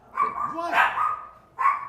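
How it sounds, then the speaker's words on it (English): Dogs indoors give short barks and yips, with tonal whine-like barks in two bursts close to the listener, while a person speaks briefly over them. "Oh God, sorry about the barking."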